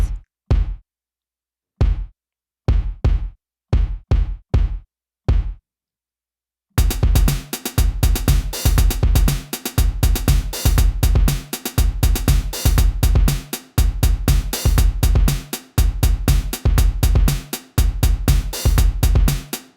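A few sparse drum hits open before a loud, driving programmed beat kicks in, kick and snare repeating in a steady pattern.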